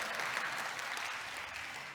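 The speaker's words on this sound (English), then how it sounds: "give me a round of applause to make sure you're still there" An audience at a digital conference gives a sustained round of applause, dense clapping heard from a distance at an even level for the whole stretch.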